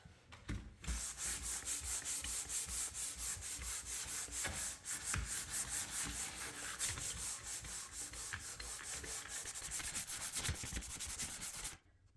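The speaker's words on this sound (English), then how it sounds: "Starting the process of sanding down the doors." Sanding of wooden bathroom doors by hand: steady rapid back-and-forth rasping strokes in a continuous, close, even rhythm for about twelve seconds, then stopping abruptly, with no talk.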